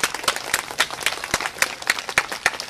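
Rhythmic, loud clapping from an audience at a religious Bhagwat saptah gathering in Rajasthan, hands striking in steady unison beats close by.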